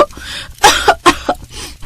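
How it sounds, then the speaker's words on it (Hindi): A woman coughs in several short, harsh bursts, choked by smoke from a wood-burning clay stove lit with damp firewood inside a home. "जिससे उसे खांसी होने लगती है"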